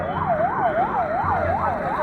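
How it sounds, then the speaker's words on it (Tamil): An ambulance siren wails on a road in a fast, regular rising-and-falling yelp, loud and steady throughout, with low traffic rumble beneath. "கொஞ்சம் ஓரத்தில் ஆம்புலன்ஸ் வந்துக்கிட்டு"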